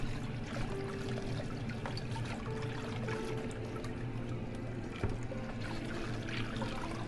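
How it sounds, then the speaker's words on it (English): Tilapia is rinsed under cold running tap water, a soft, steady trickle and pour with faint splashes and small clinks, quiet and close, with no talking. "after you rinse it with cold water"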